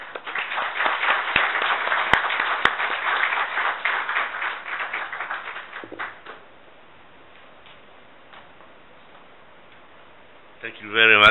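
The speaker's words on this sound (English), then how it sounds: "we would like to give a warm applause to welcome to the stage our keynote speaker" Conference audience applauding to welcome a keynote speaker, a dense burst of clapping for about six seconds that thins out and fades to near quiet, followed by a brief sharp sound at the end.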